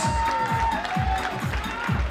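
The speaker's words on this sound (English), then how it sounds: "Ladies and gentlemen, just give these ladies here a big round of applause" An audience at a bikini model competition applauds the first-timer class, a dense, close burst of clapping with some cheering and a low rhythmic thumping under it, continuous for about two seconds.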